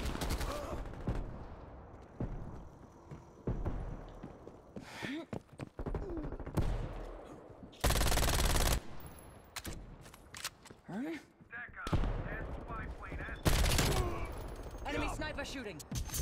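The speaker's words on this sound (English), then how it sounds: "Enemy sniper shooting." Rapid gunfire from Call of Duty Cold War, including MAC-10 bursts, with dense volleys and sharp single shots throughout, loud and busy, while players talk over the action.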